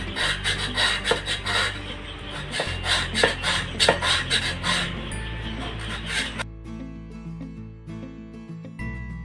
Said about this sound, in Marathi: आपण याला आधी करवतीने कापून घेऊया